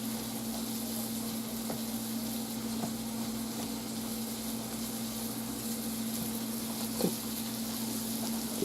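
Coated pieces of food fry in a small pan, giving a steady, even sizzle that holds throughout, with a faint hum underneath and an occasional small pop.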